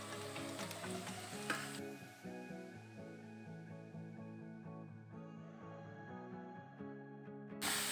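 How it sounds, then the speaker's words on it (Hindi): Fenugreek leaves frying in leftover oil in a kadai, a steady close sizzle that runs continuously through the stretch with occasional stirring, while light background music plays and no one speaks. "अभी जो ऑयल बचा है ना कढ़ाई में, इसी में डाल करके इसको हल्का सा मैं भूंज लूँगी।"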